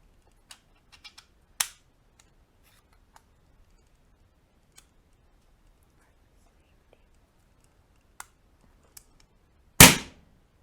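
A moderated airgun fires once in a quiet studio, a single sharp, muffled crack near the end after a few faint clicks and soft handling noises.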